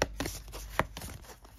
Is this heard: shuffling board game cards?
yes